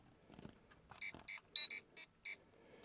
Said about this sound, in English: You get a little light show, and you get the communicator beeps.